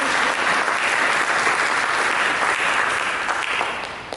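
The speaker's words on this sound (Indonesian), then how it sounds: "Berikan tepuk tangan yang meriah bagi Yesus" A church congregation claps warmly for Jesus during a service, dense continuous applause that fades slightly toward the end.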